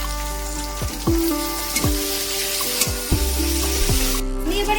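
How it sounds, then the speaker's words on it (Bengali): Chopped tomato fries in a pan for an egg tarka, a soft steady sizzle under a repeating metallic scrape of stirring, about five strokes at a regular pace, nearby and without voices. "টমেটো কুচিটা দিয়ে আমি বেশিক্ষণ ভাজবো না একটু হালকা নাড়াচাড়া করবো"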